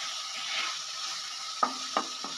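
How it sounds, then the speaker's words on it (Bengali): Masala ingredients for a paneer curry sizzle softly in a pan, with three sharp clinks of a spoon against the metal near the end, and no talking. "সমস্ত উপকরণগুলো দিয়ে ভালোভাবে একটু মিশিয়ে নেব।"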